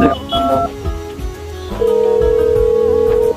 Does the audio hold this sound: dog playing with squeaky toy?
no